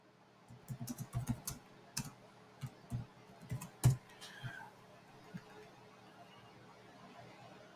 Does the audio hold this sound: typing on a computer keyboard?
yes